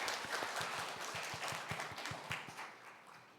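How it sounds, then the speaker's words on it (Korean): A church congregation claps together in praise after a hymn, a faint, somewhat distant patter of many hands with a loose rhythmic pulse running throughout. "하나님께 영광의 박수 올려드리겠습니다."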